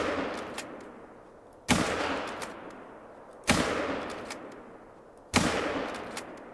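A .243 rifle fires three times at a buck in the hunting game theHunter: Call of the Wild, each sharp, loud crack followed by a long decaying echo, spaced about two seconds apart.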